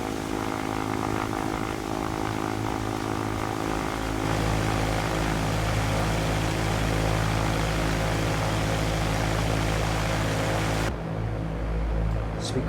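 Steady, loud propeller airplane engine drone from the X-Plane 11 flight simulator during an aerial tour from Portland to Siletz Bay, Oregon, holding a constant hum throughout with no talking.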